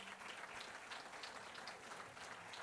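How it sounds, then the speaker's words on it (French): An audience at an evening awards ceremony applauds, a steady dense patter of many hands clapping at moderate distance, with no voices over it. "Quelques applaudissements naturellement."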